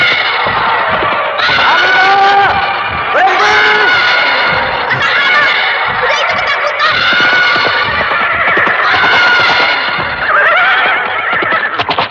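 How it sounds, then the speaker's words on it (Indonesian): A horse ridden below a hawk in a fantasy drama scene gives repeated loud whinnies and neighs, layered with dramatic effects and background noise throughout. "Di bawah sana ada seseorang sedang menunggang kuda."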